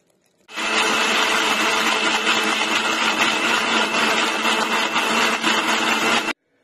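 A kitchen blender grinds milk with khoya and dates for a milkshake, a loud continuous whirring roar that starts abruptly, holds steady for about six seconds and then cuts off, with no talking.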